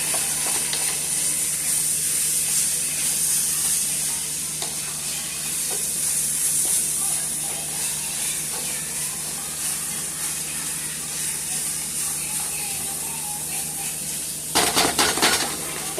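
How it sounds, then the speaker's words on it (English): Ground beef fries in a pan for shepherd's pie, a steady close sizzle with occasional stirring scrapes, and a brief burst of louder clatter near the end. "I have my ground beef ready, nice and darkened for my shepherd's pie."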